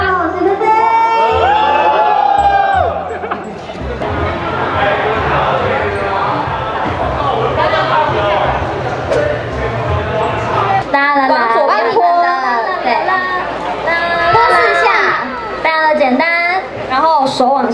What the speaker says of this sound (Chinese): 欢呼，欢呼，对，因为等一下要赢球了，所以呢，要先欢呼起来